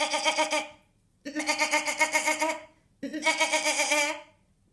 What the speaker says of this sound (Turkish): Canan, bu kuzu acaba nasıl ses çıkarır biliyor musun?